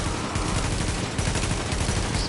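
Rapid explosive-round gunfire crackles dense and loud in The Division, a near-continuous barrage of overlapping shots and bursts throughout.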